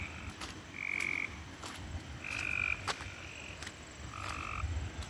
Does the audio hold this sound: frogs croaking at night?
yes